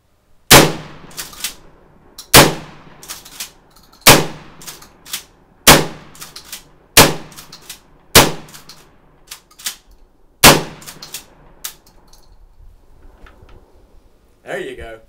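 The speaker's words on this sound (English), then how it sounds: "Now we'll switch over to the regular shotgun shells." Kel-Tec KSG pump shotgun firing 12 gauge shells at a range, about nine loud sharp blasts at irregular intervals of one to two seconds, each with a short ringing decay, the last quieter and farther off.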